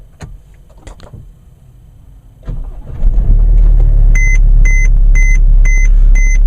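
A Mercedes-Benz diesel car cold-starts by push button at 23°F: quiet cabin shuffling, a brief cranking whir, then the engine catches into a loud steady rumble with a repeating electronic chime beeping over it.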